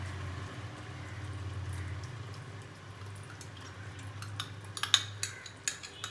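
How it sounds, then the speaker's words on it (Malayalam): A spoon scraping and clinking in a pot of Dindigul Thalappakatti biriyani mixture, with faint sizzling underneath and a few sharper metallic taps toward the end, close and fairly quiet. "നന്നായിട്ട് ഇച്ചിരി ഇളക്കി കൊടുക്കണം"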